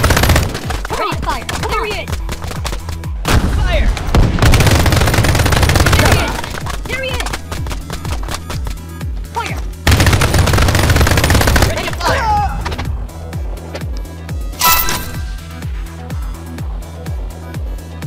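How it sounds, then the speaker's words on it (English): Rapid automatic gunfire from the Jacky Trigger mobile shooter game, loud and dense in long bursts with brief pauses between them, layered over game music and sound effects. "Fire! Come there on. He is! Fire!"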